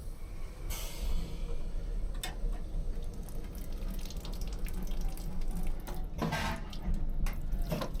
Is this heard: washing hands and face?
yes